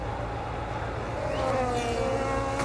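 Race car engines from a racing video game, Cadillacs and an Aston Martin in a sprint race at Miami, a steady droning whine with a rising pitch as cars pass, heard alone.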